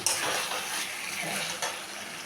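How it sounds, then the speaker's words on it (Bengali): Chicken with fried potatoes being stir-fried in a pan for a jackfruit chicken curry, a dense close sizzle with occasional scraping and clinks of a utensil, no talking. "এখন আমি ভেজে রাখা আলুটা দিয়ে দেব। দিয়ে আরও কিছুক্ষণ কষিয়ে নেব।"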